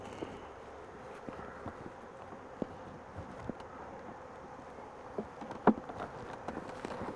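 Bees buzz faintly around an open hive in a low, steady hum, with scattered soft clicks and taps close by.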